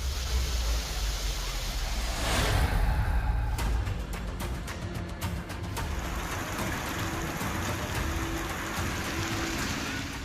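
Heavy monsoon downpour over Surat in Gujarat, a steady, dense hiss of rain with scattered sharp drip clicks, continuous throughout with no talking.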